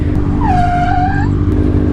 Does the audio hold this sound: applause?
no